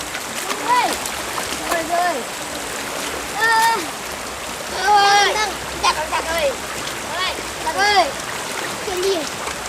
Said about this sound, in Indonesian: terasa segar mencuci tikar sambil mandi di sungai